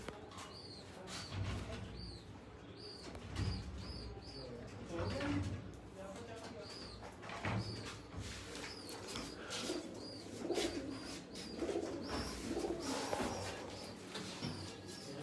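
Kamangar pigeons coo softly in a breeding setup, with occasional wing flutters and chirps while someone speaks intermittently nearby.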